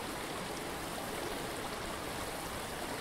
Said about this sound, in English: moving water